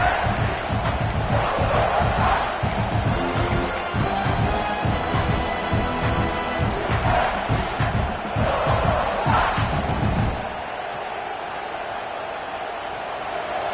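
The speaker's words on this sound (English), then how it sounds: "This crowd bringing the energy and noise early." A college football stadium crowd at South Carolina vs Ole Miss roars loudly and continuously with shouts and cheers, then drops to a quieter murmur near the end.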